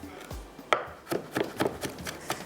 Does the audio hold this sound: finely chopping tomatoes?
yes